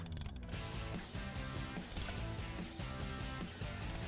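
Crank pulley installer tool pressing a new pulley onto the crankshaft of an LS or LT V8 engine, a close, rhythmic mechanical clicking and grinding that repeats in quick ratcheting turns, with no talk.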